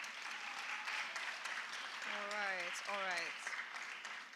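An audience at a girl child summit claps steadily for a speaker, a dense, sustained patter that fills the room, while a voice briefly speaks over it midway.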